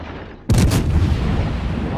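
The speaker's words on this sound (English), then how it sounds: "I'm going to shoot at the bow, right below the bow," Naval guns fire in the warship game World of Warships, a single heavy booming salvo that bursts in suddenly and loud, then rolls on in a rumbling tail.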